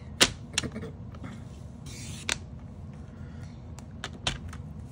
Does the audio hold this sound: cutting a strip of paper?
yes